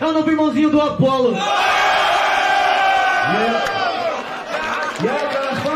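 A crowd roars and cheers loudly at an MC rap battle, sustained shouting over a voice bellowing out phrases in Portuguese at the start and end.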